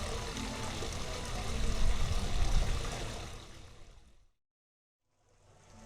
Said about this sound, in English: there's a soft sound of falling water from the fountain